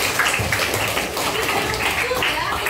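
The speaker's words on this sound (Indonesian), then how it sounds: "Tepuk tangan lagi" A classroom of students claps in a brisk, even patter of applause, with voices talking over it the whole time.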